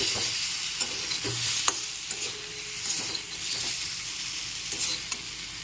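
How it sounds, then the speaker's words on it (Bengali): Raw mango chutney with salt and a little water sizzles in a pan while a spoon stirs it, giving a steady close hiss with soft scraping taps throughout and no talking. "নুন এখন একটু হালকা নেড়ে চেড়ে একটু জল মিশিয়ে দেবো আমি"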